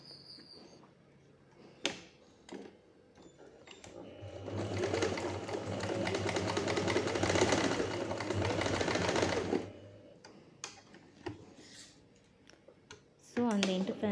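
A sewing machine stitches a shawl collar coat in one steady, whirring run of about five seconds, framed by quieter handling clicks and taps before and after.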